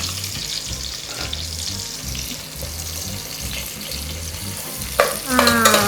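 Chopped onions frying in a pan give a steady, close sizzle with a low rhythmic thumping underneath, and a sharper, louder burst of frying comes near the end.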